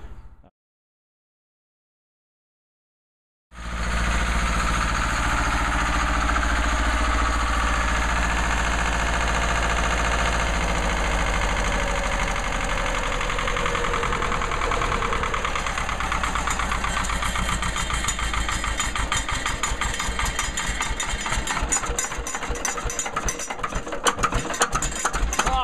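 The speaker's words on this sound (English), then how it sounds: "I'm gonna let the generator run for an hour." A diesel generator starts after a few seconds of silence and then runs at a steady, loud idle with a constant mechanical drone and fine rhythmic clatter.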